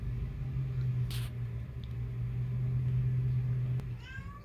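A black cat gives a short, rising meow near the end, heard over a steady low mechanical hum that runs throughout.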